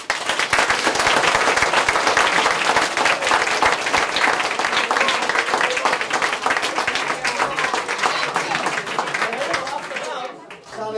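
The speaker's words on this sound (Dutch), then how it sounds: "We hebben een groot applaus voor de kinderen." An audience at a primary school performance of Roald Dahl's The Witches gives the children loud, sustained applause, dense clapping with some chatter mixed in, fading briefly toward the end.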